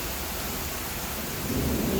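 Heavy rain roars in a dense, steady wash with a low rumble of thunder swelling toward the end, no voices.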